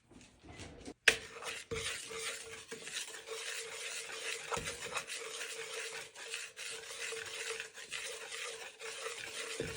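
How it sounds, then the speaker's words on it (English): Dry ingredients for muddy buddy cookies being whisked in a bowl, a continuous rapid scraping and swishing with a sharp clink at the start, close and moderately quiet, without speech. "Now I'm going to whisk that together."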